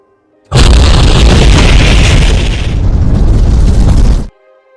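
A bomb explosion erupts in an action film about special forces fighting terrorists, a sudden, very loud roaring boom that holds a dense rumble for several seconds before cutting off abruptly to near silence.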